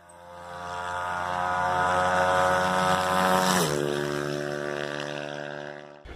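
A Honda Today motorcycle with a 330cc engine revs steadily on a dynamometer, its loud, close buzzing drone climbing in pitch to the rev limiter before it abruptly cuts off.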